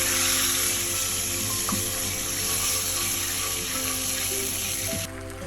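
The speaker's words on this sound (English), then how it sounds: "we can add in the evaporated milk" Evaporated milk poured into a hot pan of sizzling butter, a steady close liquid rush and frying hiss running almost throughout, stopping abruptly near the end.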